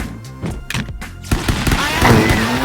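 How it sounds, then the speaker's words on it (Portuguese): Rapid bursts of gunfire in the video game Stick Fight, with sharp cracks and booms going off one after another in a loud, dense volley. "só tiro pra todo lado."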